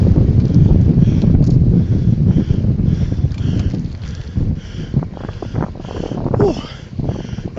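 Steady wind roars and buffets across the microphone of a moving bicycle, loud and continuous throughout with low rumbling gusts.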